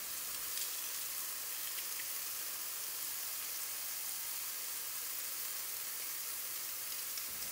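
Pressed garlic frying in rendered fat in a pan, giving a steady bright hiss and crackle that stays even and close from start to finish, with no one speaking.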